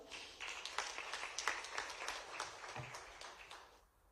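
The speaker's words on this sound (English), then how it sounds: "A big round of applause, sir." An audience at an investment session in Madhya Pradesh gives a round of applause, moderately quiet clapping with a few sharper claps, fading out toward the end.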